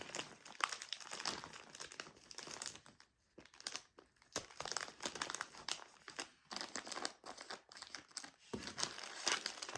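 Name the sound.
folding and crumpling gift wrapping paper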